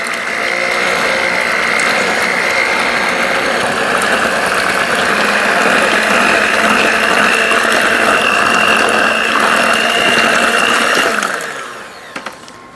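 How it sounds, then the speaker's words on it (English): Electric hand mixer beating lemon bar batter in a bowl, a loud, steady, close motor whine with rattling beaters running continuously for about eleven seconds before cutting off. "I'm going to take my hand mixer here and give this a mix."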